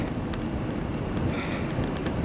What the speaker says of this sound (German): Steiger Wind wieder